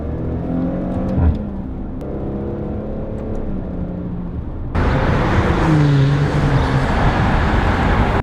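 A 2019 Maserati Ghibli S GrandSport engine hums steadily, then surges louder as it revs higher on a downshift from third gear, with a strong mechanical roar through the second half.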